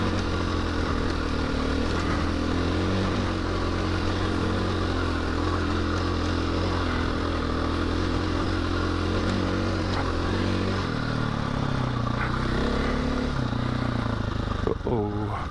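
A road motorcycle ridden steadily along a path, its engine droning loud and continuous throughout with a slight pitch drop near the end, plus wind rumble.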